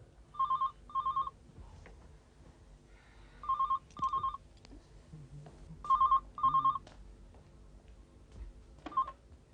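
Repeated paired electronic telephone tones sound several times at regular intervals, fairly clear over a quiet low background hum.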